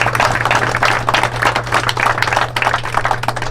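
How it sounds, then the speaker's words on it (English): Audience applause for sponsors at a charity fundraiser event, a dense steady clapping from a crowd that carries on through the whole stretch with no talk over it. "So give them a round of applause."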